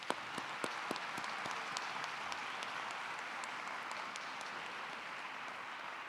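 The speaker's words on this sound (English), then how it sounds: "I would like to give a round of applause to all of our student" An audience at a university student awards ceremony applauds the nominees with steady, moderately distant clapping that holds at an even level throughout.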